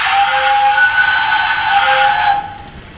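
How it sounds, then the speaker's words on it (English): A Rapido S160 OO gauge model steam locomotive with DCC sound fitted sounds one long, steady, hissing whistle that holds loud and unchanging for over two seconds, then cuts off abruptly into quiet. "It is the same whistle every time."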